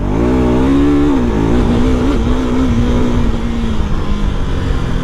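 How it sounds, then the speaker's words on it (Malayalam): A 2025 adventure motorcycle, a KTM 390 Adventure or Royal Enfield Himalayan 450, pulls uphill under throttle, its engine droning loud and close with a wavering pitch that dips and steadies as it climbs, no talk. "കണ്ടോ, കയറ്റമാണ്, പക്ഷെ എന്നാലും വണ്ടി തന്നെ ത്രോട്ടിൽ കൊടുത്ത് വണ്ടി പോകുന്നുണ്ട് കേട്ടോ"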